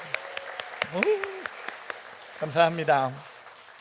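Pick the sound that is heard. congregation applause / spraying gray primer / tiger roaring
congregation applause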